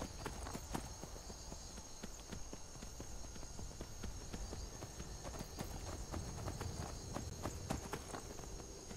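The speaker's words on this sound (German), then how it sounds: "Wir brauchen das Pferd, denn dieses Pferd bringt uns extrem schnell von A nach B." Horse hooves clip-clop at a steady walking rhythm in Skyrim, sharp repeated hoofbeats close by over a faint ambient background, with no speech.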